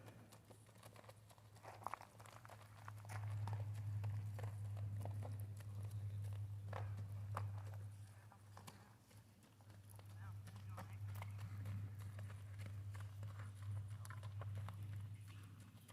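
A palomino Kentucky Mountain gaited horse walks near a barn, its hooves clip-clopping in a steady, soft rhythm over a constant low hum, with people talking nearby.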